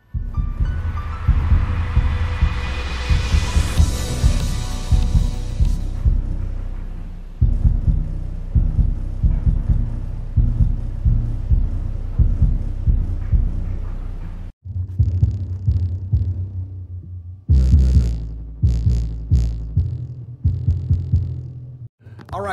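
A home theater subwoofer with a hidden 8-inch driver and a large front passive radiator played loud, pounding deep rhythmic bass beats through music for about twenty seconds, with a short gap near the middle.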